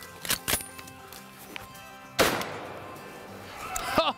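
Sharp outdoor shotgun blasts during a rabbit hunt: two quick reports, then a louder close shot with a ringing tail, followed by a voice.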